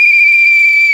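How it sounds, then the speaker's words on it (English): A single sharp, steady referee's whistle blast sounds for about a second as the final whistle of a match, loud and alone. "Final whistle."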